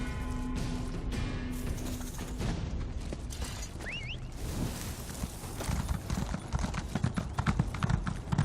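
Horse hooves clip-clop in a steady, close, rhythmic trot within the Elder Scrolls Online game's Clockwork City, over a mechanical ambient hum with a brief whinny-like tone partway through.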